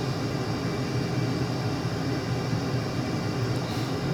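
Steady, loud airplane engine drone in Microsoft Flight Simulator, a constant broadband roar with a low rumble that holds unchanged throughout, with no voices over it.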